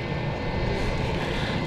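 Airbus A321neo airliner passing near Stansted Airport, a steady, fairly loud broadband jet roar with a low rumble that holds evenly throughout, no voices.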